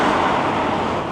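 Busy road traffic in Hammersmith, London, a dense, steady roar of cars and buses close by with no breaks in the noise.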